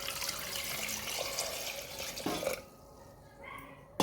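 Water is poured into a pressure cooker holding potato, raw banana, eggplant and tomato. A close splashing pour runs for about two and a half seconds, then drops to quiet with a few faint trickles and a brief knock at the end.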